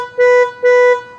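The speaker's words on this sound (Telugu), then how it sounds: "వోక్స్‌వ్యాగన్ వెంటోకి ఒరిజినల్గా కంపెనీ వాడు ఇచ్చిన హార్న్ సౌండ్ అయితే కనుక ఈ విధంగా ఉంటుంది" Original factory horn of a Volkswagen Vento sounds twice, two loud, close, flat honks of about a third of a second each with a brief gap between them.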